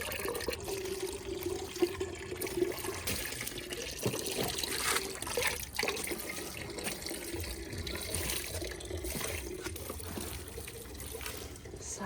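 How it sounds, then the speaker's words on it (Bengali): Tap water runs steadily into a bucket on a rooftop, a continuous close splashing rush that stays even throughout, with faint background noise and no talking. "ছাদে আগে একটু কলটা চালিয়ে বালতি ভর্তি করে নিয়ে গাছে জল দিয়ে নেব"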